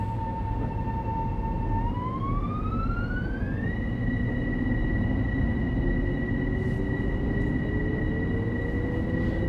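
Commuter train departing for Mount Vernon West in Train Sim World 4, a steady low engine rumble with a rising whine-like tone climbing and then holding as it pulls away.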